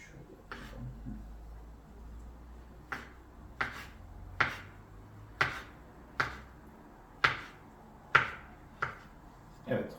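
A series of crisp knife strikes chopping avocado on a cutting board, irregularly spaced and growing firmer, with a low background hum and no talking.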